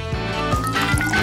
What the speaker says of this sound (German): Oma gießt die heiße Schokolade in ihren Lieblingsbecher.